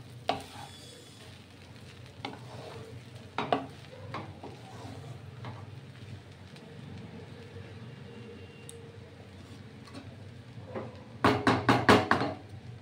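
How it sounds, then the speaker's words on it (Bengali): Pea pulao stirred in a pan, scattered scrapes and knocks over a low hiss through most of it, then a loud burst of rapid scraping strokes near the end. "এবার নেড়ে চেড়ে আরো 2 মিনিট আমি হতে দেব"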